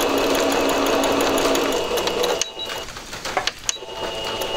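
A Singer Patchwork sewing machine runs a regular straight stitch, a steady, loud mechanical whir that continues for a couple of seconds, then stutters and slows with a few clicks as it eases off.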